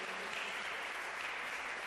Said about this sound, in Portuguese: Aplaude o Senhor nesta manhã.